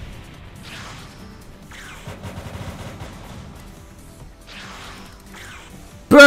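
Fire-based attacks in the Fruit Battlegrounds video game, a flame pillar chained into a fire fist: a low, rumbling, crackling blast that swells and recedes in several bursts, with a sharp loud impact right at the end.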